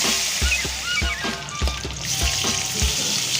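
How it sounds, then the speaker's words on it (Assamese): Pieces of fish fry in hot mustard oil in a kadhai, a dense bright sizzle with a few low thuds and bubbling spatters as they are moved around, heard up close and without talk. "মই মিঠাতেলত মাছখিনি ফ্ৰাই কৰি ল'ম।"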